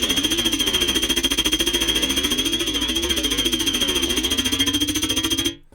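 Dubstep bass synth patch built in NI Massive with a flanger, producing a loud, continuous buzzing growl with a sweeping metallic shimmer and steady pulsing, sustained for over five seconds before cutting off abruptly; no voices.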